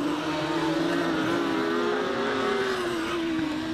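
Rallycross cars accelerating hard up a race track toward the loose surface: a loud, continuous engine roar with rising and shifting pitch, close and steady throughout.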